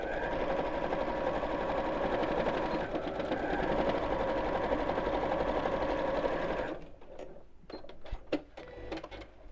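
A sewing machine runs steadily for several seconds, stitching fabric for a reversible bag, then stops, leaving a few light clicks and handling noises, close and loud.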